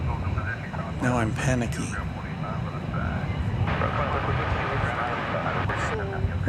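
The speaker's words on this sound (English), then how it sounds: "it needs a lot of runway to take off" A large airliner's engines roar steadily as it takes off from DFW Airport, heard from a distance under excited voices talking nearby.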